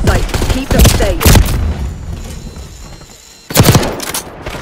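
Gunfire in Call of Duty Black Ops 6: several loud, sharp bursts of shots close by, a pause with low ambient hum, then another heavy volley.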